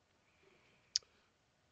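A single sharp computer mouse click, close and crisp, stands out against near silence.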